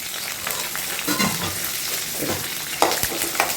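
Curry leaves crackle and sizzle as they hit hot oil in a pan, with bursts of popping and spattering and some stirring sounds, up close with no voices.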